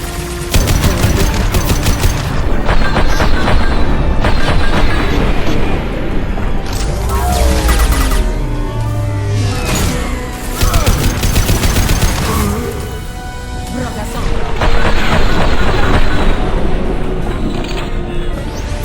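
Heavy weapons gunfire in the Mass Effect 2 Shadow Broker DLC, dense sustained bursts of loud automatic fire and explosive booms filling the whole stretch with little letup.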